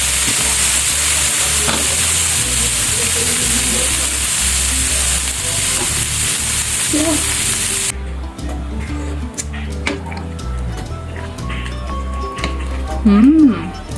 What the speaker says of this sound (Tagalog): Ayan na, kumukulo na siya guys.